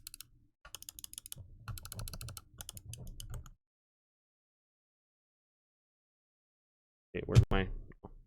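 A Razer Basilisk mouse with optical switches clicks in quick, crisp bursts for a few seconds, close and distinct, then falls silent before a short burst of speech.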